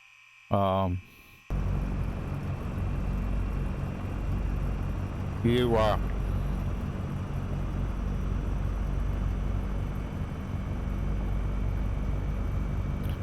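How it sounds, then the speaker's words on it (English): Aircraft engines idling steadily in the X-Plane 11 flight simulator, a constant low drone and hum throughout, with a short burst of speech near the start and a brief electronic tone partway through. "This will start with the engines running."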